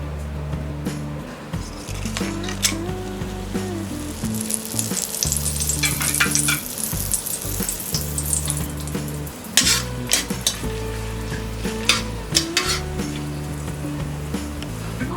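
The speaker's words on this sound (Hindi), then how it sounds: "तेल और घी गर्म होने के बाद हम डालेंगे एक दालचीनी, 4 इलायची, 4-5 लौंग और ये एक तेज पत्ता।" Cinnamon, cardamom pods, cloves and a bay leaf crackle and sizzle steadily in hot oil and ghee, with stirring scrapes and occasional pan clinks over a low droning background.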